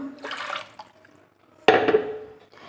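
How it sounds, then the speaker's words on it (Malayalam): Water poured into a mixer grinder jar, a brief gurgling splash at the start, a pause, then a louder second pour that trails off. "ഇതിപ്പോൾ ഞാനിതാ മിക്സിയിലേക്ക് വെള്ളം ഒഴിച്ചിട്ട് കുറച്ചുകൂടി ഒഴിച്ചു കൊടുത്തു"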